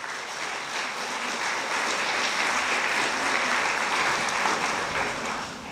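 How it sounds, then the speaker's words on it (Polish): Hall audience applauding an award laureate at a youth gala in Mielec, a thick, continuous roar of clapping that swells slightly in the middle and eases off at the end. "Wielkie brawa dla Julii."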